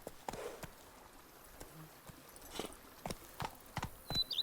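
Roach the horse's hooves in The Witcher 3, a quiet outdoor scene in Toussaint with a steady clip-clop rhythm that starts sparse and quickens, fairly close but soft, with faint birdsong in the background.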